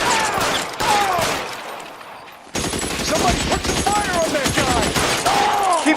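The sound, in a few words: gunfire in the video game L.A. Noire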